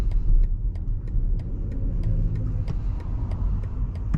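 A 2024 BMW iX electric car in sport mode accelerates with a steady, rumbling synthetic engine-like drone and a regular faint ticking on top, continuous and fairly close.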